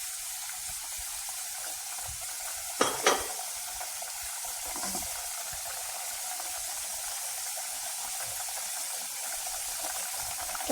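Mutton masala sizzles and fries in oil in a kadai for a Pakistani mutton dish, a steady quiet crackle with a couple of brief louder stirring scrapes near the start.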